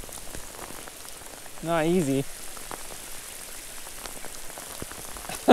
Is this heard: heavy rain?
yes